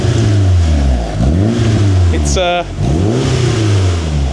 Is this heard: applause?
no